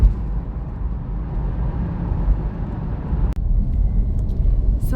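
Steady low road rumble from inside a car driving along a street in Winnipeg, continuous and fairly loud with a brief dropout near the end, no talking.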